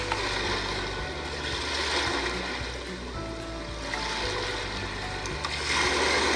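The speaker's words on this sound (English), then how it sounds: "This is the ocean." White noise machine on its ocean setting: continuous rushing wash that swells and recedes slowly in gentle wave-like surges, with no voices.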